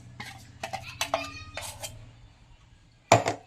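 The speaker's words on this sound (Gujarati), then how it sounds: "ખીરું પીસાઈને રેડી થઈ ગયું છે. બધું જ આપણે આ તપેલીમાં કાઢી લઈશું" Ground idli and dosa batter being scraped from a grinder jar into a cooking pot, heard as a few close metallic clinks and scrapes, ending in one sharp knock. No one speaks.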